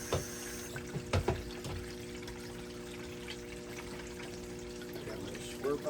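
Water is poured over plus-20 gold paydirt in a pan, giving a faint, steady wash and trickle punctuated by a few sharp clicks and knocks near the start and end.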